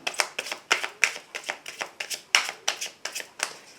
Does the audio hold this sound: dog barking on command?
no